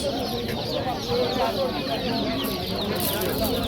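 Dekan roosters and chickens at a crowded poultry market cluck continuously in overlapping calls, close and busy, with a faint crow and market chatter underneath.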